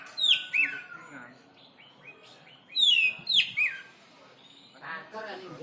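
A kacer (magpie-robin) sings loudly in bright, sharp whistled phrases and rapid chirps, repeated in bursts close by, with voices talking quietly in the background.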